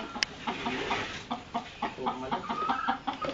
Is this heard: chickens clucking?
yes